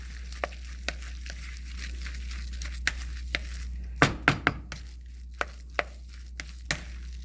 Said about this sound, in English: And then we're going to stir this up again.